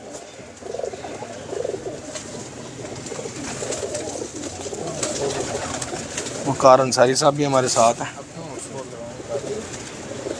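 Fancy pigeons kept by a breeder in Jhelum coo in low, throaty bursts, with a denser flurry of cooing near the end, all beneath steady conversation from men nearby.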